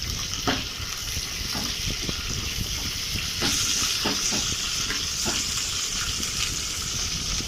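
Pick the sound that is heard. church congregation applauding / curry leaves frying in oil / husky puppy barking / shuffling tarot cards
curry leaves frying in oil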